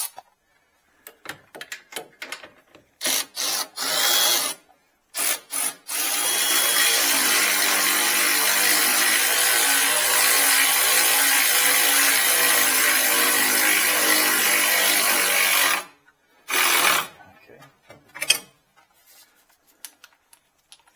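Mechanic tightening the lower control arm bolts on a Chevy Cobalt with a power tool, a sustained whirring buzz lasting about ten seconds, framed by shorter clicks and bursts before and after.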